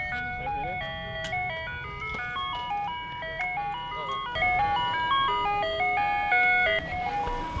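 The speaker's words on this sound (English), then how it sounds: "What if I flipped off an ice cream truck?" An ice cream truck plays its tinkly, stepping jingle melody steadily and fairly loud in the background, with faint voices now and then.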